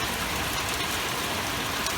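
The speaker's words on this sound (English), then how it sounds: "Now this is some heavy rain." Heavy rain pours down steadily outdoors, a dense, continuous hiss of drops drumming on surfaces, loud and unbroken with no voices.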